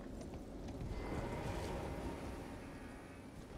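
Horse hooves clip-clop in Elden Ring as a mounted rider moves along, a steady muffled patter of hoofbeats over a low rumbling game background, with no talk.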